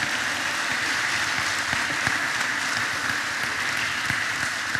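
A church congregation breaks into applause during a sermon, a dense, steady wash of many hands clapping at once that holds evenly from start to finish, close and full.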